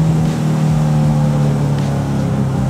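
Caterham 270S sports car, a 2019 model, passing close by with a steady, throaty engine drone that holds loud and even for a few seconds.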